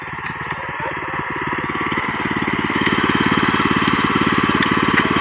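A multi-cultivator's small engine runs steadily close by, a loud rapid chugging putter that builds slightly in level and pace, with no one talking over it.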